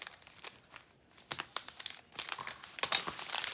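Tape being pulled and torn off a roll while assembling a candy, heart and flower bouquet, a few short close crinkly rips and rustles, with quiet gaps between them.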